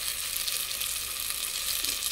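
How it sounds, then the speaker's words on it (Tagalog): Sardines sauté in a pan as the base for miswa noodle soup, giving a steady loud close sizzle and crackle of hot oil that runs unbroken throughout. "gisa-gisa."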